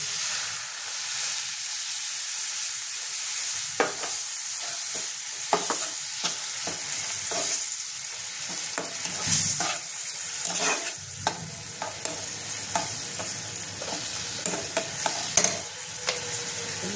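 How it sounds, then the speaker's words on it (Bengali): Spices for a Bengali malai prawn curry fry in a pan with a continuous loud sizzle and hiss, broken by repeated scraping clicks of stirring throughout. "ভালো করে একটু ভেজে নেব"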